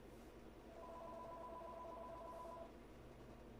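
A phone rings indoors, a steady electronic two-tone ring held for a couple of seconds over a constant low background rumble, with no voices.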